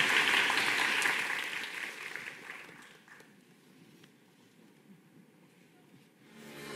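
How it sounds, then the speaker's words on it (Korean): An audience applauds at a musical awards ceremony, a loud clapping swell that fades to a faint patter with a voice speaking over it, then rises slightly again at the end. "다시 한번 큰 박수 부탁드립니다."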